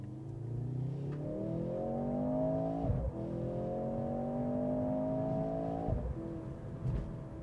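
2024 Mercedes-AMG C43 accelerating hard, its engine and exhaust note rising in pitch through repeated upshifts, with brief dips at each gear change, heard from inside the car.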